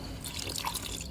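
Water trickles and drips into a vessel for a drink, a soft continuous pouring sound with a brief bright plop midway, no speech.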